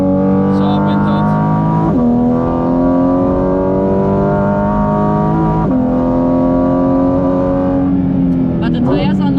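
Porsche GT4 RS on cold Michelin Pilot Sport 4S tires lapping the Nürburgring, its engine droning loud and steady through the gears with pitch climbing and dropping at each shift, recorded from inside the car with people talking.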